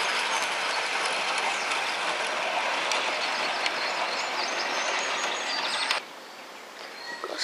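A Hornby model railway train with its wagons runs along the track with a steady whirring rattle and a busy clicking of wheels, then drops sharply quieter near the end.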